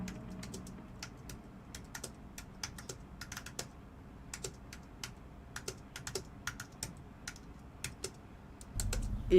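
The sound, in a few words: typing clacking on a computer keyboard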